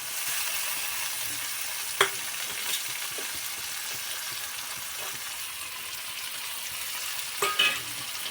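Chopped tomato goes into chillies and onions frying in a pan for a potato and flattened-rice dish, giving a steady close sizzle with two sharp utensil knocks, one early and one near the end.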